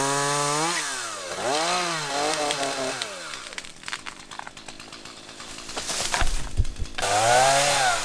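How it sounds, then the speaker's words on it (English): A chainsaw revs up and down with whining pitch sweeps, then bites into wood with a rough, grinding buzz before revving high again, while cutting trees near a ruin. "I'm gonna cut with the chainsaw."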